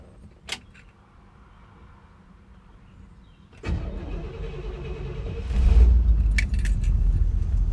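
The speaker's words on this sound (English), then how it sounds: "The car starts, the car runs quite okay" Keys jingle briefly before a car's engine cranks and catches after a coolant leak repair, settling into a steady idle that then rises into a louder, heavier rev, close and without talk.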